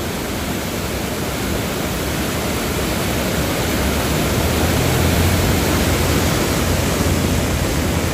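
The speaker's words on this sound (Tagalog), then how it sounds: "Grabe, napakalakas ng agos." The strong flood current of the Marikina River makes a loud, continuous broadband roar of rushing water that holds steady throughout, with no voices over it.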